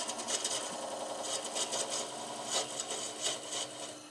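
Wood lathe spinning a workpiece at about 700 RPM, a close steady mechanical whir with rhythmic rattling and light tool chatter throughout.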